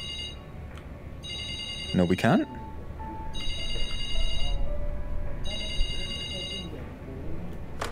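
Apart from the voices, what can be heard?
telephone ringing in Doctor Who: The Edge of Time VR video game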